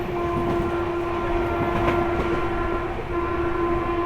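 The Akal Takht Express running nonstop at speed between Kolkata and Asansol, a loud continuous rumble of wheels on rails with a sustained tonal horn-like drone held across the whole stretch.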